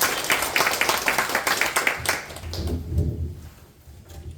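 A congregation claps at a Korean evangelistic healing service in church: a burst of dense applause that thins out after about two seconds and gives way to quieter room sound and a murmur of voices.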